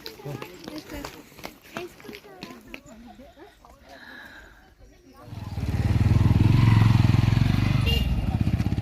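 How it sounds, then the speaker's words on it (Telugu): A motorcycle passes on a hill road up Siddhula Konda near Rayadurgam: people talk for about five seconds, then a loud, close engine drone swells and holds steady to the end. "బైక్స్ కూడా పోతుంది"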